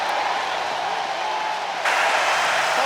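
A stadium crowd at a Florida Gators vs Kentucky college football game roars steadily as a broad, loud wash of cheering that swells louder near the end.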